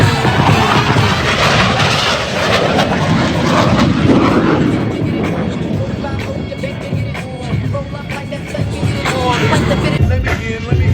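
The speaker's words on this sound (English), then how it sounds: "two solo pilots will next demonstrate the inverted flight capability of the F-18" F-18 jets of the Blue Angels flying an inverted roll at the Kaneohe Bay air show, a loud continuous engine roar that swells and fades over a murmuring crowd.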